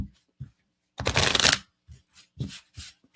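Tarot cards are shuffled by hand in quick bursts, one longer riffle followed by several short soft taps and flicks, close and clear with no talking.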